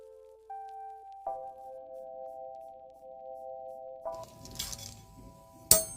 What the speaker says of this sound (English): I'm now going to transfer the fat which we have rendered into these two bowls.